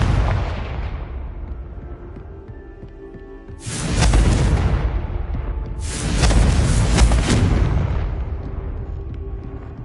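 A Confringo blasting curse unleashes heavy booming explosions, two big roaring blasts rumbling one after another over a low lingering rumble.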